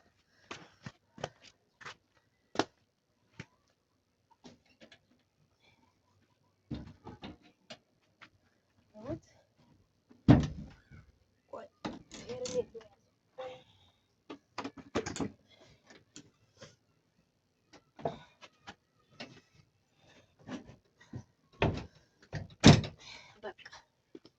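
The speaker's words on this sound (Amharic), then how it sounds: "ይሄ ደግሞ በር አለው። ላሳያችሁ ዘግቼ" A door in a rural home is shut, making scattered sharp knocks and clacks that come close and fairly quiet, mixed with intermittent talking.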